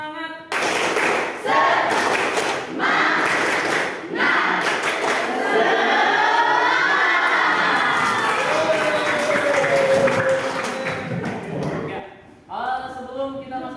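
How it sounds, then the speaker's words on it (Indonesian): A school class does tepuk semangat, a rhythmic clapping routine: loud bursts of claps in quick patterns, then group voices chanting and singing, with a teacher speaking at the end. "Pak Guru pakai tepuk pramuka, tapi nanti diimbangi dengan lagu tepuk semangat ya."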